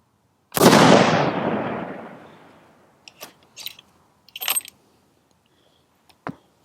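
A rifle fires a single loud, sharp shot up close, its blast decaying over about two seconds, followed by a few faint clicks and rattles of handling the gun.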